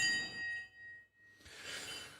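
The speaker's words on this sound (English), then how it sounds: "the bell has now gone." A bell rings to mark the end of a company's annual business update. A bright metallic ding hangs and fades, then the clip breaks into a burst of broad hiss.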